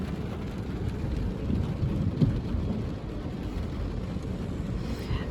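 Steady rain falls in a dense, even wash of noise with a faint low rumble beneath, continuous and unbroken from start to finish with no talking.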